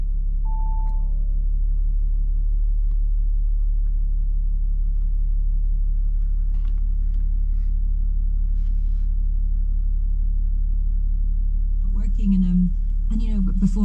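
A Kicker L7 15-inch subwoofer in a car pumps out a deep, constant bass tone throughout, with someone speaking over it near the end.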